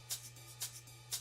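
A shaker in an electronic dance music remix groove sounds in three crisp, bright hits roughly half a second apart, each with a softer echo after it, over a steady low hum.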